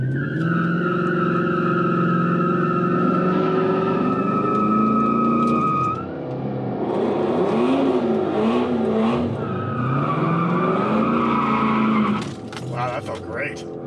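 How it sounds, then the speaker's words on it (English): An Infiniti Q45 doing a burnout at a drag track, with a sustained engine drone, rising revs and tire squeal that shifts in pitch midway, then an abrupt drop near the end; a voice talks over it at times. "I'm gonna do a burnout"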